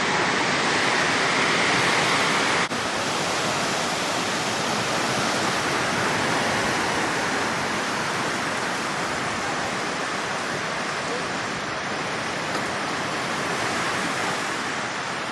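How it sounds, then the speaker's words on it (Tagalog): Roaring broadband rush of heavy typhoon wind and rain in Bacolod City, loud and steady throughout with no voices. "Lakas na naman ng hangin at ulan."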